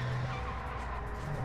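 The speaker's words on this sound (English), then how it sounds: "Is that another car squeaking?" Tires squeal on a car in the Call of Duty MW2 DMZ game, a short steady skidding screech heard alone with engine rumble beneath.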